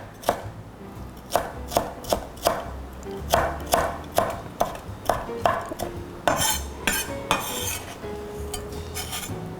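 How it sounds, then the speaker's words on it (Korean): Chives and red and green chili peppers finely sliced with a knife on a cutting board, a steady run of crisp, close chops in quick rhythmic bursts with brief pauses. "부추 있으면 부추를 또 이렇게 짧게 송송 썰어서 부추도 넣으셔도 되고요"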